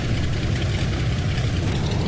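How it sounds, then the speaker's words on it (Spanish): An off-road vehicle stuck in mud in the Offroad Outlaws driving game gives a loud, steady low engine drone, revving continuously with no pauses and no talk. "estamos acelerando para poder retroceder"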